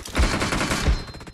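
Two sharp gunshot bursts from the Battlegrounds Mobile India battle royale game, the first near the start and a second about two-thirds through, each with a heavy low thump over a noisy game background.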